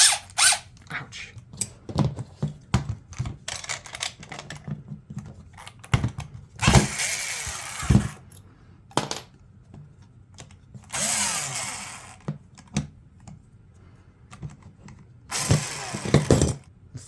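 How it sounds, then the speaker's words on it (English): A 1978 Makita cordless drill fitted with a torque bit runs in short whirring bursts with ratcheting, clattering mechanical noise, separated by quieter pauses and handling sounds. "This is probably the first time this drill has ever had a torque bit in it"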